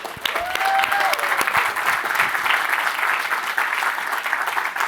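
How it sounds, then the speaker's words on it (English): A crowd applauds steadily for about five seconds, a dense, even wash of clapping with a brief whistle-like tone near the start. "I want a round of applause for Stephanie."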